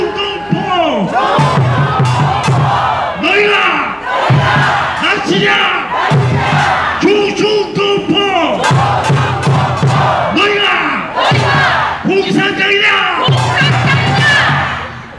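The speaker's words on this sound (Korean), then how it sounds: "다시 한번 그때 함성으로 외쳐주십시오." A large crowd at an outdoor political rally in Daehangno's Marronnier Park, Seoul, roars and chants in unison, loud rhythmic bursts of shouting repeating every couple of seconds, like a rallying battle cry.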